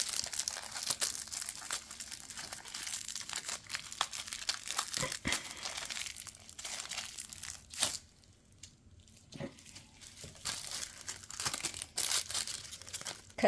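A plastic piping bag is twisted and knotted by hand for cake decorating, giving a steady close crinkling and crumpling with small crackles that briefly ease off partway through.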